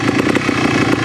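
A Yamaha TY 250 trials motorcycle engine runs loud and close with a steady, throbbing idle as it is put in gear before a big climb.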